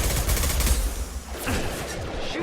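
Sustained automatic gunfire in the video game Mass Effect 2, loud and dense, with rapid overlapping bursts and shots filling the whole stretch and no talk over it.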